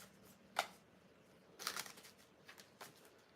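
Tarot cards are shuffled in three quick riffles, short papery bursts separated by brief pauses, close and fairly quiet.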